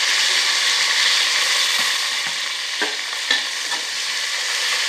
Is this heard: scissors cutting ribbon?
no